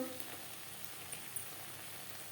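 Spices for potol chingri sizzle quietly in a pan, a soft steady crackling hiss with faint pops, distant and low with no talking.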